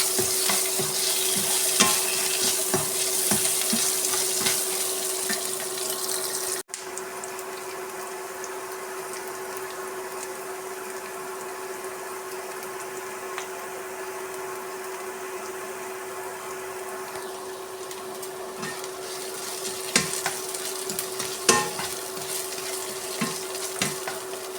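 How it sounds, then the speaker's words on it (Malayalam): Ginger, green chili, garlic and onion sauté in a pan with a steady close sizzle and occasional stirring scrapes, frying continuously for a fish curry with no talk. "ഇഞ്ചി, പച്ചമുളക്, വെളുത്തുള്ളി, സവാള നന്നായി വഴറ്റിയെടുക്കാം."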